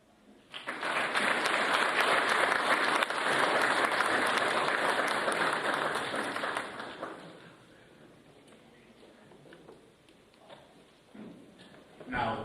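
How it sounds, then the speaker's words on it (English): Loud, dense audience applause fills a South African Military Academy Faculty of Military Science awards ceremony hall for several seconds, then dies away to scattered claps and quiet room noise. "Now that deserves a thunderous round of applause."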